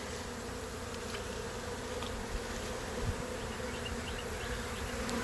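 A swarm of honey bees hums in a steady, dense drone close by, with individual bees zipping past now and then over the constant buzz.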